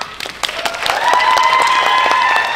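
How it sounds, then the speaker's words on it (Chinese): Audience applause after a singer's performance at a charity singing contest final, a steady wash of clapping that builds after the first second and stays loud with scattered cheers. "给你掌声"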